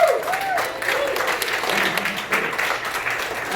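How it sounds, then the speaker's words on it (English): An audience at a Marvel vs DC fan convention panel applauds, a dense wash of clapping with a few scattered shouts that holds steady for a few seconds. "Guys, let's say big hand clap for me."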